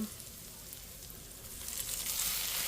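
Garlic sautéing in a pan for garlic fried rice hisses with a steady close sizzle that swells louder as freshly cooked rice is added.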